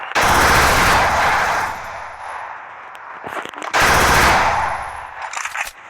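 Sustained MP40 submachine gun fire in Free Fire, two long loud rapid bursts separated by a short pause filled with a few clicks and lighter noises.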